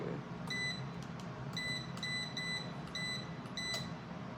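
A heat press timer gives a series of short, faint electronic beeps at uneven intervals over a low background hum as its time is set for pressing a T-shirt.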